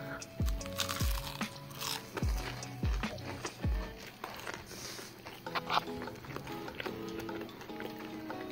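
Crunchy cauliflower bites in a sweet chilli and parsley coating with a soft-cheese-style dairy alternative are chewed close up, giving a run of sharp crisp crunches over the first few seconds and then softer chewing sounds.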